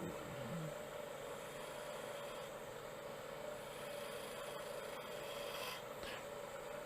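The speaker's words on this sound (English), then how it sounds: "Just doing the planing cut with the bevel support on the side." Woodturning planing cut on a lathe with the tool's bevel riding the spinning wood, a faint, steady rasping hiss over a constant motor hum, with a few brief scraping sweeps near the end.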